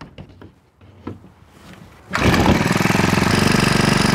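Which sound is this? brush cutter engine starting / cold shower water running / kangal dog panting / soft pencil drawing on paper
brush cutter engine starting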